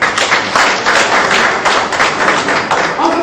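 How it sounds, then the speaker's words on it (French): Applause from an audience at a socio-professional leaders' training session, a dense, steady patter of many hands clapping close by throughout. "On applaudit encore."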